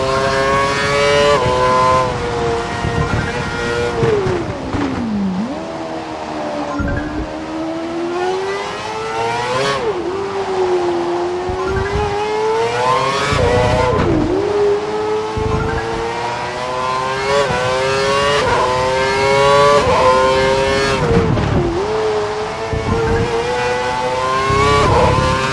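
An F1 race car engine on a wet track in F1 2012 screams steadily and loudly, rising through gears and dipping repeatedly as it brakes and accelerates through corners.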